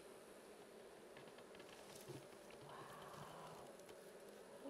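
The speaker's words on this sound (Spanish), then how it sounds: "Están mansas las abejas." A soft, steady drone of bees humming throughout, faint and continuous, with no voices.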